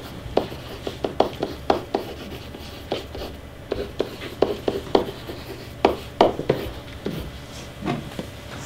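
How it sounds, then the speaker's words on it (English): Pen or pencil scratching on paper in a classroom, with scattered short strokes and taps in an irregular rhythm, close and fairly quiet, without talk. "You can write right on your paper."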